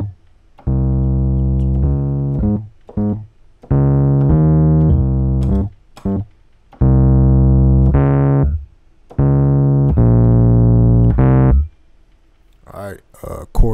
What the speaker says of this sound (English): Bass line sound like this.